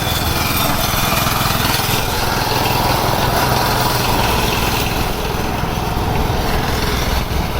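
A Hyper X G40 three-blade ride-on lawn mower engine runs loud and steady nearby, a constant droning roar with no breaks.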